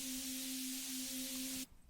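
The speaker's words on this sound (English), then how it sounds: "another Synthetic preset. And this one has a lot of white noise." Synthesizer preset heavy with white noise, a steady hiss over a sustained tonal hum, quiet, cutting off abruptly near the end.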